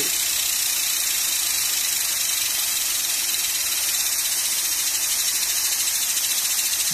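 Pressure cooker releasing steam in a model steam power plant, a loud, continuous high-pitched hiss with a faint pulsing flutter, steady throughout with no talk.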